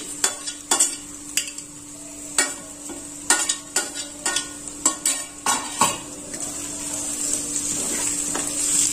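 Golden-browned onion with grated ginger and finely chopped green chilli sautéing in a pan, a soft sizzle under a series of sharp, close clinks and scrapes of a spoon against metal, no voices.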